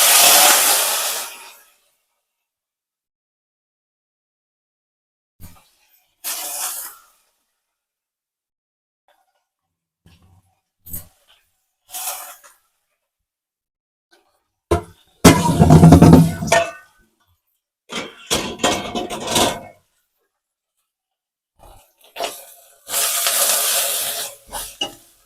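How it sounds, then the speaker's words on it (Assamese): Bottle gourd leaves and flowers fry in hot oil, giving loud sizzling hisses in separate bursts with quiet gaps between them, close to the pan. "এই তেলতে মই লাওৰ পাত আৰু ফুলটো ভাজি ল'ম।"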